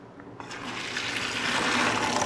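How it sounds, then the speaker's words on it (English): Hot water from boiled rice poured off through a colander in a kitchen, a sudden splash that swells into a steady gushing pour, fairly close and alone. "Just strain away the excess water."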